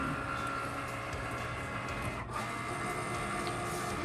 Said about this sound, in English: now the Cricut's cutting out our mason jar on the vinyl